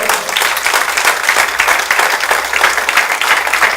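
A church congregation applauds together, a dense, steady wash of clapping from many hands close by, sustained without a break for nearly four seconds.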